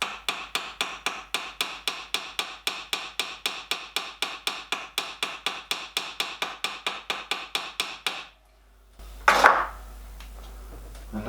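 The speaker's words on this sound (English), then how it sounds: "Just get the edges with a ball peen hammer." A ball peen hammer taps the edges of metal horn plates on a miniature steam locomotive in a fast, steady rhythm of sharp strikes for about eight seconds, then stops; a brief louder clatter follows after a pause.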